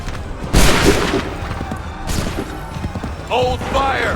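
Volleys and booming blasts ring out in a video game battle, two heavy bursts separated by quieter clatter, with shouted commands and voices mixed in near the end.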